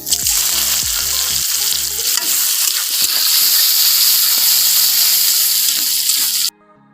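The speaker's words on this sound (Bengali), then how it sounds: "তেল গরম হয়ে গেছে বন্ধুরা এখন আমি দিয়ে দিলাম পেঁয়াজ কুচি" Chopped onions hitting hot oil already fragrant with cardamom, clove and cumin, a loud, dense, close sizzle that begins with a few clatters and roars steadily before cutting off abruptly near the end.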